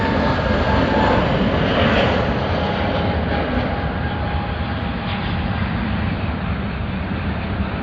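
Delta airliner arriving from Los Angeles at Sydney Airport, a steady, loud jet engine roar that stays broad and continuous throughout, easing slightly as it goes, with no talking.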